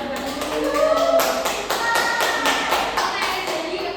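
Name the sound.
class clapping for Mbak Nurul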